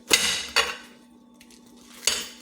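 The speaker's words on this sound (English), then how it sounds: "take this head of lettuce and chop it in half" A knife cuts a head of lettuce in half on a board for taco salad: three sharp, close chopping thuds, two in quick succession and a third after a short pause.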